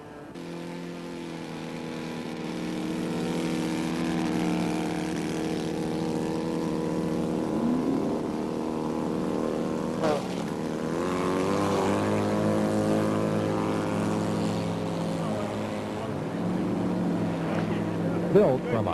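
Flybaby model biplane on floats, built from a balsa kit with a scratch-built fuselage and a Sato 270 two-cylinder four-stroke engine, drones steadily for the whole stretch with a rising and falling engine note, while a voice talks over it.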